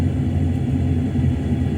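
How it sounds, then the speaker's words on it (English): In Train Sim World 2, a steam locomotive's engine sound runs after the throttle is closed, heard as a steady, heavy low rumble at an even level throughout the short stretch. "you can just hear the engine sound cut in there"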